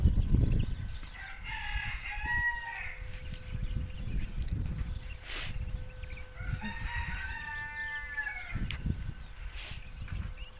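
A rooster crows twice on a rural farm, long rising calls a few seconds apart, over a steady outdoor background murmur.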